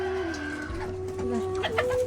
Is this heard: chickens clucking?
yes